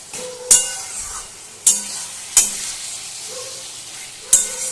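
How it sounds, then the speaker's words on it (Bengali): A spoon stirs and mashes taro leaves (kochu shak) in a pan, making four sharp, close scrapes and knocks against the metal at uneven intervals over a soft, continuous sizzle. "নাড়িয়ে নাড়িয়ে মিশিয়ে নিতে হবে আর কচু শাকগুলোকে এভাবে ম্যাশ করে দিতে হবে"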